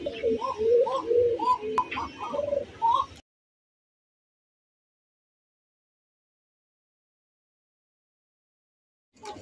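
Racer and high-flyer pigeons coo close by, a series of soft throaty warbles lasting about three seconds, then sudden silence.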